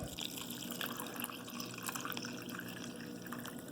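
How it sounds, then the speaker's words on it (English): Water pours steadily into a container holding coral for a saltwater dip, a quiet, continuous splashing trickle that runs unbroken throughout with no talking. "I'm going to use their water to fill this up."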